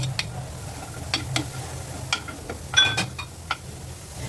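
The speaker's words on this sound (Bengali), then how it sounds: "এখন এই যে কেটে রাখা রসুন পেঁয়াজ আর অর্ধেক আর কি কাঁচামরিচ দিয়ে দিব" Chopped garlic, onion and green chilli sizzle softly in a pan, a close, low frying hiss broken by scattered ticks and clinks of stirring.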